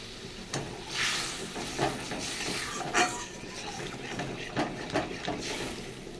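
Water goes into a sizzling mustard fish masala, producing a soft, bubbling hiss with occasional spoon scrapes and clinks against the pot, fairly quiet and close.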